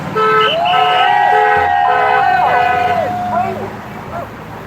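A vehicle horn honks in a drawn-out, wavering blast over a noisy outdoor background with passing traffic.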